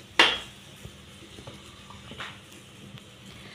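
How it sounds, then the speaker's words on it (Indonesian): A metal utensil clanks against a wok, then soft scraping and stirring of spice paste with a faint sizzle of frying in the background. "Nah, ini bumbunya kita tumis di wajan."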